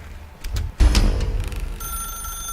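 A telephone rings in The Stanley Parable, with a thump and a clatter before a thin electronic ring tone that holds steady toward the end.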